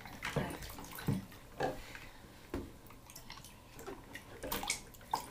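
A child splashes water in a bathtub with a series of close, irregular splashes and slaps of water, some sharp and some softer, and a little sloshing between them.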